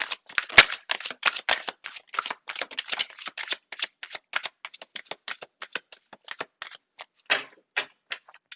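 Tarot cards shuffled and dealt out in rows: close, crisp flicks and taps of cards against a surface, coming in quick irregular runs that thin out toward the end.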